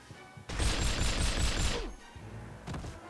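A fast, loud burst of SMG gunfire from the From Russia With Love video game, a dense rattle lasting about a second and a half after a quiet start, then tapering off into softer game sounds.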